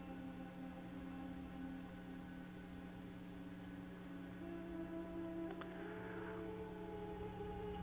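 Steady rain falls around an inn in the World of Warcraft video game, a constant soft hiss of drops under low tonal game ambience, with no talking.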